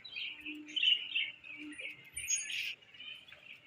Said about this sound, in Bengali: ও পাখিগুলো আমার নয়, লোকের পাখি।